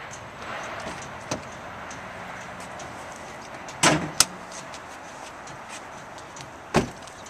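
Under the hood of a 2012 Nissan Rogue, faint handling sounds give way to a few sharp clicks and clunks of the latch and hood opening, set against quiet background hiss without speech.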